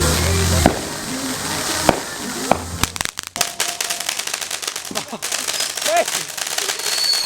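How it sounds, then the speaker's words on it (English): Fourth of July fireworks going off on a mountain hiking trip: several sharp bangs and pops early on, then a rapid crackling run of firecrackers, loud and close, with voices calling out in between. "We about to get these fireworks going on."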